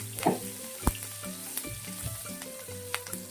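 Green chilies and curry leaves sizzle and crackle in hot oil while cooking dal, with sharp pops and a steady frying hiss, near and fairly quiet, no talking.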